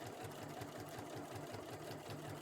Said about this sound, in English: needle down, turn it, and sew down the other side